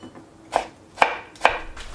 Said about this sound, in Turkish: İlk önce sebzelerin hepsini küçük küçük kıyıyorum.